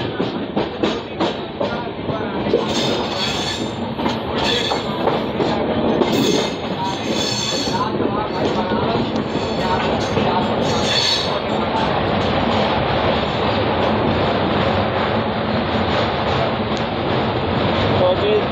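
A train runs loud and steady past Kashi railway station in Varanasi toward the Malviya rail-cum-road bridge, wheels rumbling and clattering close by with occasional squeals, and no clear voices over it.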